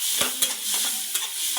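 Cumin seeds hit hot oil in a pan, giving a bright continuous sizzle with a couple of quick scraping stirs over a brief moment, close and without speech.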